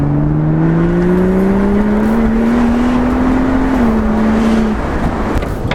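A 2012 BMW 135i engine pulls hard at speed, a loud steady drone with a rising tone that holds, dips slightly, then settles as road and wind roar fill the background.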